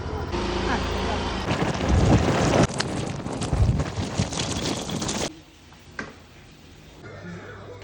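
Heavy wind buffeting a microphone while riding a scooter, loud gusty roaring for about five seconds before cutting to a quieter background.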